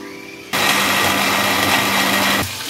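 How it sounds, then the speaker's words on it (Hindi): A mixer grinder whirs loudly for about two seconds while grinding fried onion with yogurt, starting and stopping abruptly, with a steady motor hum over quieter background sound. "ये फ्राई की हुई प्याज इसमें डालकर ग्राइंड कर लें"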